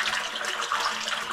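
Water pouring from a short pipe elbow onto the surface of a tire tank, a steady close splashing rush without pause.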